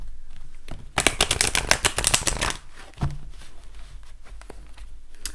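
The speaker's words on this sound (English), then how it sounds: "I'll give the cards a little bit of a shuffle before we get going." A deck of tarot cards is riffled and shuffled up close, a dense flurry of crisp papery flicks lasting about a second and a half, followed by a few soft taps and handling sounds in a quiet room.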